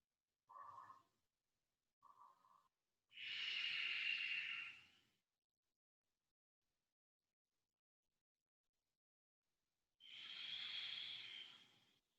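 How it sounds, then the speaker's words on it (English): Deep Ujjayi breaths draw through the nose with a constricted throat, forming a few soft hissing breath sounds separated by silence, with the longer breaths lasting about two seconds each, close and quiet. "Take about 4 more deep Ujjayi breaths here"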